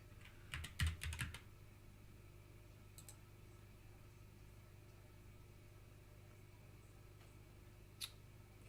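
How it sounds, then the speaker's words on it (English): Quick bursts of computer keyboard typing, a short cluster of keystrokes near the start and a lone tap later, faint over a steady low hum. "let me just type it up real quick"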